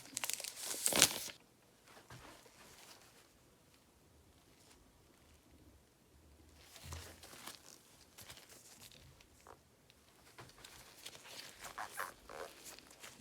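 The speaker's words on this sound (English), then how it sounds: "And now we will open our tape." Packing tape is torn and peeled open on a Lenovo Chromebook box, a loud sharp rip followed by quieter crinkling and rustling of the packaging, up close.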